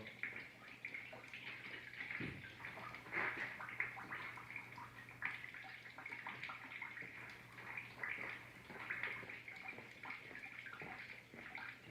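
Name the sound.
fluid draining from a car part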